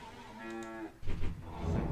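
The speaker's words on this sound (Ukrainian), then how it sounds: "Клас, корова мукає." A cow gives a single clear, close moo in a fantasy video game, followed by muffled game sounds and ambient clatter.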